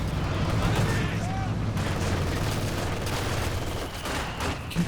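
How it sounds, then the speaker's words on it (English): Machine gun fire in a Company of Heroes 2 real-time strategy match, with dense continuous bursts and explosions of battle under steady commentary. "Machine gun in a good position here."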